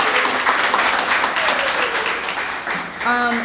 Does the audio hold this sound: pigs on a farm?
no